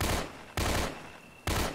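Gunfire in the video game Left 4 Dead 2: three sharp, loud shots spaced about a second apart, each decaying quickly before the next.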